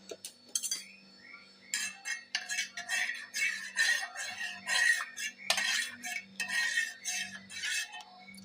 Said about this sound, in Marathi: आता आपण एकदम हलवून घेणार आहोत